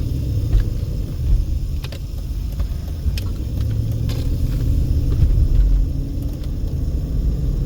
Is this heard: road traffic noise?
yes